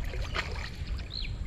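A small boat is rowed through shallow water while gathering water lilies near a field of kans grass, with soft splashing and dripping of the oar strokes close by.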